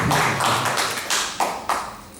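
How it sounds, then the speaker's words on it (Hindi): Applause from a live audience at a Holi comedy poetry recital, a dense patter of claps that swells, dips and re-surges several times over a couple of seconds, with no voice over it. "साहब एक बार थोड़ी सी तालियां दे दीजिए"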